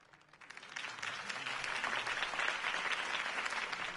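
Crowd applause at a Harvey Dent campaign rally in a Batman video game, a dense wash of clapping that swells from quiet to full and stays loud and steady.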